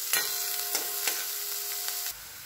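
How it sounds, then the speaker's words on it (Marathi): Chopped onion sautéed in oil with mustard seeds and cumin, a steady close sizzle with several spatula stirs and scrapes that stops abruptly near the end. "तेलामध्ये मोहरी टाकायची, जिरे बारीक कट केलेला कांदा, कांदा गुलाबी रंगावर परतून घ्यायचा"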